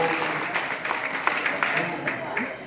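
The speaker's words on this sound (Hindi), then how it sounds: "कविता कैसी लगी? तालियां बजा के बताओ।" Audience at a live Hindi poetry recital (kavi sammelan) claps in a short, loose burst of applause, crowd noise rising and fading with scattered distinct claps at moderate distance.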